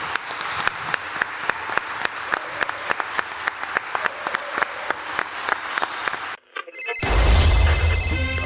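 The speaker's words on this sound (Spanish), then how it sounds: "La forma de darle las gracias es este fuerte aplauso que les vamos a dar ahora" A loud round of audience applause closes a round-table talk on mathematics and storytelling at the Semana Negra festival, with dense clapping and distinct sharp claps throughout for about six seconds. A short cut follows, then a loud, different burst of sound.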